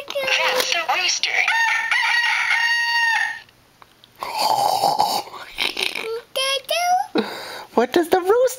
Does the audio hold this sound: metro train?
no